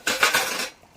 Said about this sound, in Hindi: मम्मी यहाँ पे बर्तन मांज रही है